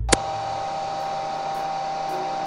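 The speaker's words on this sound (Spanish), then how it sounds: "¡No te escucho con el ruido del secador!" A toy doll hair dryer blows with a steady, even whirring hum after a short click at the start, close by and continuous.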